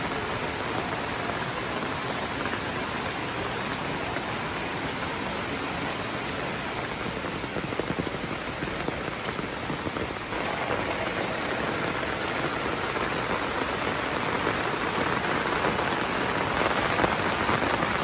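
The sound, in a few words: heavy rain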